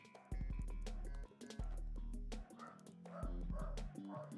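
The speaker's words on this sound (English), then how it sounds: "I have barking dogs." Dogs indoors bark in short, repeated bursts, several sharp woofs spaced irregularly, fairly close to the microphone.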